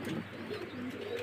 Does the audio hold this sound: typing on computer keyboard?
no